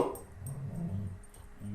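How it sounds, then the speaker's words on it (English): A dog growls and whimpers in short, close, moderately loud bursts, with a low rumbling quality and no clear barks. "my dog found a squirrel, and we took care of that. So no more barking"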